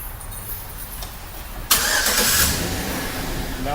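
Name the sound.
2012 Chevy truck engine starting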